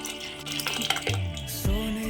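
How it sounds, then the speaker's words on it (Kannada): Water poured into a pot of cooked rice and lentils while making rice payasa at home, a short splashing pour with faint clinks of the vessel, close and moderately loud, no voices. "ನೀರು ಹಾಕ್ಕೊತಾ ಇದ್ದೀನಿ."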